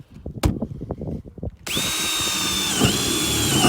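A power drill fitted with a Christmas tree step bit bores into car body metal, first a few sharp knocks and clatters, then a loud, steady high-pitched whine of the bit cutting close up for a couple of seconds.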